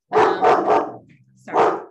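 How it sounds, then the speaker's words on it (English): A dog barking indoors, three quick loud barks in a row, a short pause, then one more bark, close to the microphone with no talking during the barks. "sorry, that's the dog."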